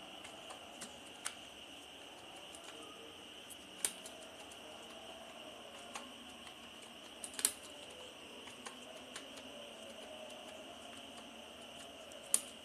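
Faint, sparse keystrokes on a computer keyboard while typing in Microsoft Word, with isolated clicks spaced irregularly over a quiet background hum.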